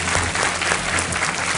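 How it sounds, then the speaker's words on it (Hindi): A KBC studio audience bursts into loud, sustained applause, a dense, even wash of many hands clapping together with no break throughout. "आइए, स्वागत आपका, बहुत बहुत तालियों के साथ इनका स्वागत।"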